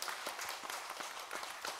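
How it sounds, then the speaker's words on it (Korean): Church congregation clapping in praise during a Sunday service, a brief scattered burst of applause filling the sanctuary at moderate level. "우리 하나님께 영광의 박수 한번 올려드리겠습니다."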